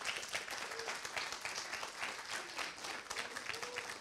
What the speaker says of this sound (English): So come on, give her a round of applause.